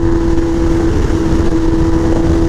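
A Kawasaki Ninja H2 motorcycle engine runs with a loud, steady drone and a strong sustained tone, like cruising at speed with wind noise. No voices are heard.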